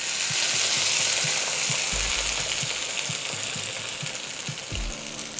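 A hot tempering of oil and spices is poured into a chutney, giving a loud, continuous close-up sizzle with a rhythmic series of soft low knocks running underneath.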